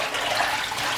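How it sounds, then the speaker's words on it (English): Water poured for washing food before cooking, a steady close rushing splash that runs without a break for the whole second and stays loud and even from start to finish. "let me just pour the water"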